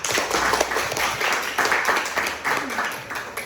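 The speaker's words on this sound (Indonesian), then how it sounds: "beri aplaus untuk kelompok 4 dan beri aplaus untuk kalian" Classroom applause for a student group, a burst of brisk clapping from many hands, steady and loud for a few seconds, with voices mixed in.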